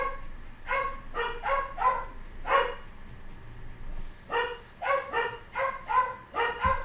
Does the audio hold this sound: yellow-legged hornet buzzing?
no